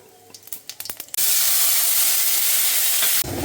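Fish and onion drop into hot oil in a pan after a few light clicks, and a sudden loud, steady sizzle fills the air for about two seconds before cutting off.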